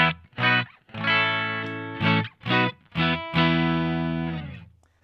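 Electric guitar clean tone playing a short riff of separate chords, each ringing a moment before the next, with a longer final chord decaying away; close and alone.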